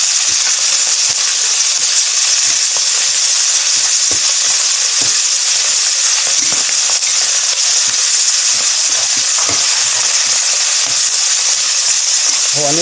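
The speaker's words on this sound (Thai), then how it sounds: "ตัวอ่อนของต่อนะครับหรือแมงนอนวันนั่นเองนะครับเราก็จะเทลงละ" Wasp larvae frying in a pan over a high flame, a loud, steady sizzle with crackling spits running throughout.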